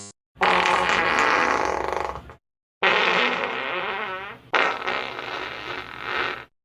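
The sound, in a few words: farting sound effect from a VTuber's video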